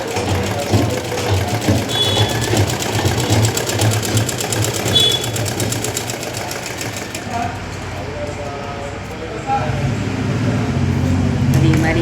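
A sewing machine stitching a blouse, its rapid mechanical whir running close and steady for about seven seconds before stopping, with a person talking over and after the motor.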